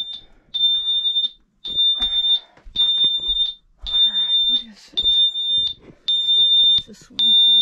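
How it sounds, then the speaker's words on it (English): A weather alert alarm sounds in repeated loud, shrill electronic beeps in short bursts, going off inside while people talk between and over the tones. "Got an alarm going off during all this."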